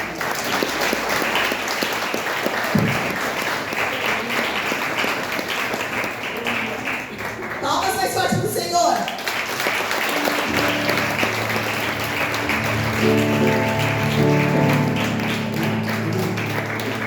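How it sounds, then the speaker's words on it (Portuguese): A church congregation applauds in praise during an evening sermon, steady dense clapping from a large crowd filling the space throughout, with a low musical hum rising under it toward the end. "Palmas que louvam ao Senhor."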